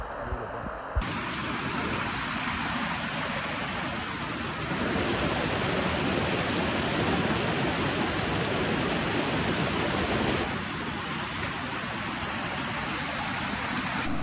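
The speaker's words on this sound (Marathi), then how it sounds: "वाटेत हा धबधबा लागतो" A monsoon waterfall beside the road to Suryamal hill station roars in a steady, dense wash of rushing water that fills the whole stretch without pause or voices.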